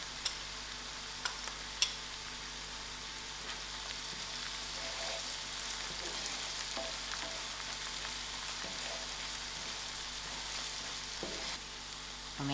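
Masala and curry leaves fry in a pan of oil, making a steady, close crackling sizzle for the whole stretch, with a few sharp pops near the start and no talking.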